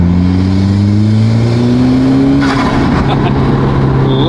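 Car engine revved hard on a drive out of Portola Valley, loud and close, pitch climbing steadily through the gears with a sharp shift and some tire noise near the end.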